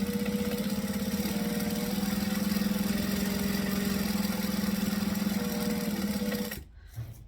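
A sewing machine stitches a stained glass tote bag, its steady motor hum running continuously and close for several seconds before stopping abruptly near the end.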